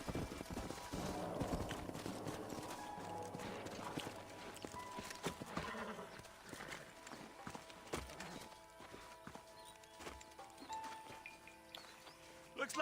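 Horses clip-clopping on a trail in the western video game Red Dead Redemption, steady hoof beats under game ambience and scattered sharp noises, with a brief burst at the end.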